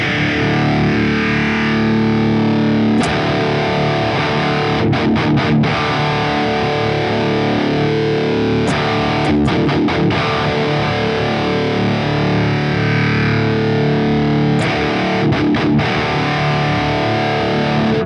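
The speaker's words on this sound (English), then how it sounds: "Since I'm boosting the treble, I feel like it drastically affects how the amp sounds." Electric guitar played through a Marshall JCM-2000 amp with a Fortin NATAS pedal and boosted treble gives dense, loud distorted riffing with chugging palm-muted bursts and brief stops, steady throughout with no voices.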